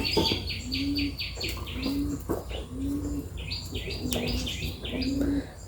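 Pet budgerigars chirp in quick bright bursts, close by, with a few repeated low coos from a dove or pigeon mixed in at a steady interval.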